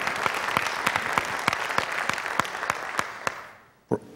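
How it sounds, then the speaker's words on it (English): A church congregation gives sustained applause for the senior pastor, with steady clapping and sharper individual claps standing out, fading out near the end. "Let's give the Lord a big praise clap as our senior pastor, Dr. Bob Rogers, comes."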